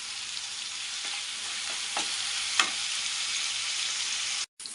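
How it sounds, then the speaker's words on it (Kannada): Curry leaves sizzle hard in hot oil with a steady broadband frying hiss, a few sharp pops and spatters near the middle, close and loud, briefly cutting out near the end; no talk. "ಇವಾಗ ಇದಕ್ಕೆ ಕರ್ಬೇವಿನ ಸೊಪ್ಪು ಹಾಕೋತಾ ಇದ್ದೀನಿ."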